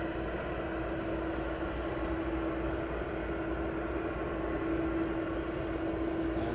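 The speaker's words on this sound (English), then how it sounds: "A300 on final, DHL" DHL Airbus A300 on final approach at East Midlands Airport, a distant steady jet drone with a sustained low tonal hum, faint and even with no talk.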